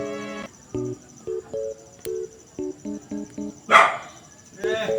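Dog barks in a Minecraft-style crafting game repeat in a steady string of short yaps, with a brief louder burst near the end and a faint tone humming underneath.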